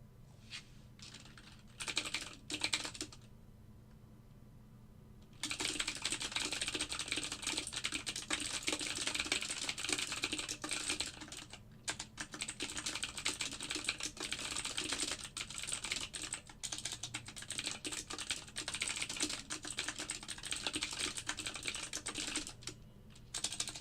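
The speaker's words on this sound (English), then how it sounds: "I type really fast. And I know it's loud with my clicky keyboard" A clicky computer keyboard clatters under fast, continuous typing, dense and close, with a couple of brief pauses near the start and no talk.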